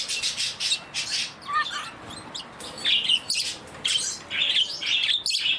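Budgies in an outdoor aviary chirp and warble in quick, overlapping bursts, a busy, fairly close flock chatter with brief pauses between clusters of calls.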